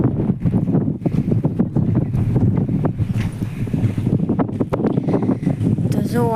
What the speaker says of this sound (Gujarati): બહુ મસ્ત પવન આવે છે કેમ કે પડખે ડુંગરા છે